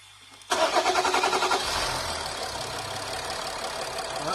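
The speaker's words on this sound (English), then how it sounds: "So I'm going to start the car." A 2012 Nissan Navara D40 engine with an EGR fault (code P0488) cranks briefly with a rapid rhythmic chugging, catches, then settles into a steady idle nearby.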